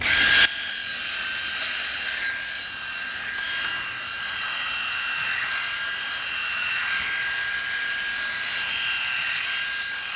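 A Remington Virtually Indestructible electric shaver drawn against the grain gives a steady, close motor buzz with a high whine, holding a rough, unbroken drone for the whole stretch with no talk.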